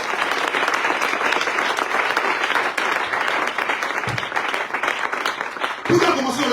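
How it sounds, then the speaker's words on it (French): A church congregation applauds to acclaim the Lord during a worship service, sustained, dense clapping that carries steadily from start to finish, with no voices on top. "Est-ce qu'on peut acclamer le Seigneur?"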